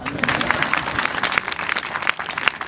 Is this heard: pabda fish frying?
no